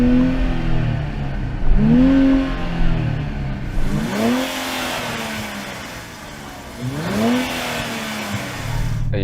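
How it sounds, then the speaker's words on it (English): A 3-litre V6 turbo car engine is revved repeatedly, rising and falling in pitch several times over a steady rumbling idle, loud and close. "I'm going to rev up my 3-litre V6 turbo."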